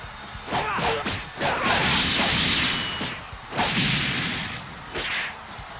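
Heavy into light attack string in the Xenoverse 3 fighting game: a rapid run of whooshing swipes and sharp whip-like impacts, several hits in quick succession with bursts of crashing effects, loud and close.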